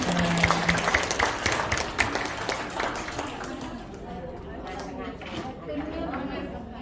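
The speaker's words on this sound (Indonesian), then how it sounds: "Ya, kita kasih aplaus untuk beliau." Audience applause at an Aisyiyah entrepreneurship school training session, steady clapping that thins out over several seconds while people chatter underneath.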